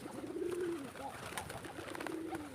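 Native pigeons coo nearby on a pigeon farm, two soft throaty rolling calls with a faint murmur of other birds in the background.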